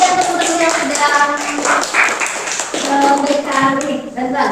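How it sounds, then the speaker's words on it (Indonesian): A classroom at a Bogor junior high school breaks into applause for a student, a steady burst of many hands clapping, close and continuous, with children's voices mixed in. "tepuk tangan dong buat Reta dan teman-teman"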